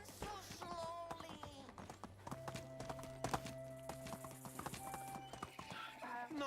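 Horse hooves clip-clop in steady rhythm in Medieval Dynasty, close and clear with game music and a brief whinny, no talk over them.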